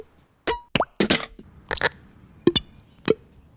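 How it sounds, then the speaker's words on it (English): A handful of sharp plastic pops and clicks arrive in an uneven sequence, close and crisp, separated by brief quiet gaps. "his body parts pop in and out as they make different types of plastic noises"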